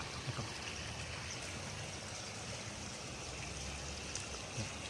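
Floodwater from the overflowing Pa Sak River pours past a village community in Lom Sak, Phetchabun, giving a steady broadband rush with occasional faint splashes, continuous and moderately loud with no voices.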